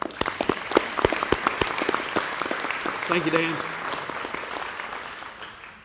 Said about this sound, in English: I want to take a minute just to give them a round of applause for that.